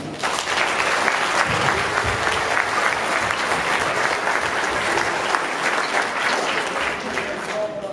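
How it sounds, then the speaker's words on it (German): A crowd at a boxing memorial event applauds steadily and loudly throughout, a dense continuous wash of many hands clapping. "Dafür können wir mal klatschen."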